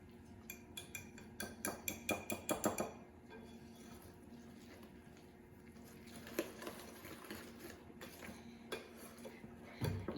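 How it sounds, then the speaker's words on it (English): Flour being mixed into gluten-free banana bread batter in a bowl, with quick clinking utensil taps against the dish, a short burst of rapid strokes early on, then softer scraping stirs, close and fairly quiet. "now we're just adding the flour in, and you're going to mix it until it's completely incorporated"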